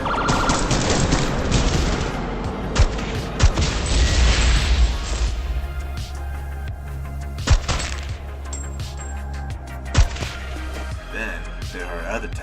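Automatic weapon gunfire from the shooter game ADACA, with dense loud bursts in the first few seconds followed by sparser single sharp shots and booms over a game soundtrack.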